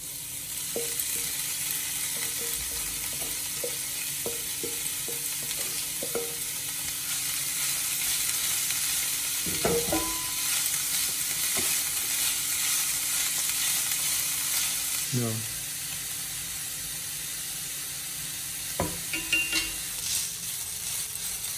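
Spices being stirred and fried in a pan while chicken momo and soup are made, a steady broad sizzle throughout with a few louder scraping stirs near the middle and end, fairly close and without talk.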